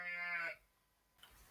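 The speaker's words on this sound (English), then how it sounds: "sorry about that bloody sheep" A single sheep near a barn gives one loud, clear bleat that stops after about half a second, followed by quiet with a faint rustle at the end.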